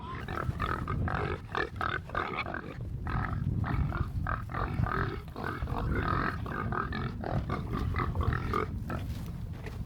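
Several pigs grunt continuously and loudly nearby, overlapping snorts and low grunts with no pause.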